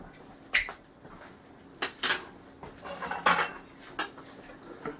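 Clinks and clatters of a bowl and utensils being handled in a home kitchen while cooking, with several irregular sharp knocks and scrapes at close range and no talking.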